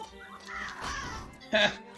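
A crow caws in the video game The Legend of Zelda: Link's Awakening remake, a single short, harsh call standing out loudly near the end over a voice talking throughout.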